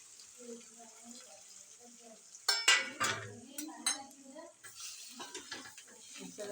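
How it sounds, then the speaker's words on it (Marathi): Brinjal coated with masala, peanut powder and gram flour gets stirred in a kadhai, spatula scrapes and clinks over faint sizzling, with someone talking in between. "असं वांग्यांबरोबर असा मसाला मस्त हलवून घ्यायचा"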